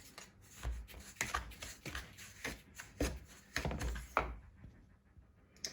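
Playdough ingredients being stirred and tossed in a bowl by hand, with irregular soft thuds, scrapes and shuffling knocks up close at moderate volume.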